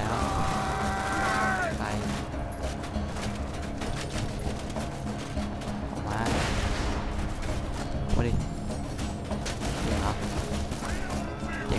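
Steady rumble of gunfire and blasts in Borderlands 2 runs throughout, with whooshing effects and a heavy engine-like drone underneath.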